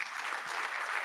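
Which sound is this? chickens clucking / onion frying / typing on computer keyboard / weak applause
weak applause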